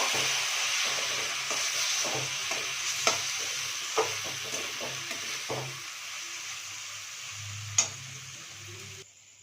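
Ingredients lightly frying in a pan while making a biliti amra chutney, a continuous soft sizzle with regular stirring taps and scrapes up close and no talk, cutting off at the end.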